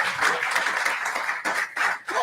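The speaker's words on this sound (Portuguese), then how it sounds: "Dê um aplauso a Jesus." Congregation applause at a church service, a steady wash of many hands clapping, loud and sustained with slight dips near the end.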